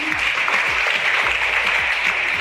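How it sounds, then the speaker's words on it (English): An audience at a school quiz competition gives a continuous round of applause, broad and even in loudness with no talk over it, for a student team member. "Big round of applause for Mahin"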